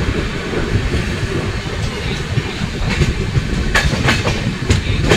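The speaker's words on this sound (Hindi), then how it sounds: "7:03 में on time Asansol railway station से हमारी ट्रेन निकल चुकी है।" Coalfield Superfast train pulling out of Asansol railway station, with a steady rumble of wheels on track, rhythmic clickety-clack from the carriages and sharp squeals and clanks close by.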